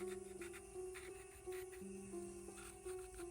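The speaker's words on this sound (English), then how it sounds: "using a fine grit sanding band, I'm just going to try and remove this excess black gel polish" A nail drill fitted with a fine grit sanding band whines at a steady pitch while removing leftover black gel polish from a nail, its tone dipping as the band presses on and lifts off, quiet and close.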